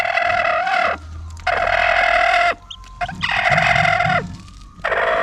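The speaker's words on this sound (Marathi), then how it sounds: "आता एक पिल्लू निघालाय बघा बाहेर" Chickens at a poultry farm with newly hatched chicks, sounding repeated loud, close clucks and crow-like calls in several bursts separated by short pauses.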